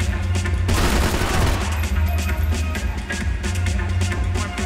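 Gunshots in the video game Max Payne 3, a loud rapid volley of shots fired straight into the air, repeating in close bursts over a rumbling game background.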